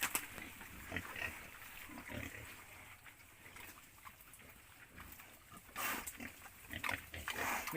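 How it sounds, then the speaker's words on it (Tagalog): Pet pig, still young, grunting and snuffling at close range while being fed outdoors, with scattered rustling and feeding noises in quiet surroundings. "Pabarakuhan ko muna yung baboy na ano namin na alaga."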